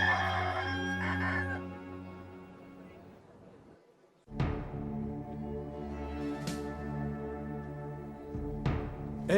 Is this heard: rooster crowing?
yes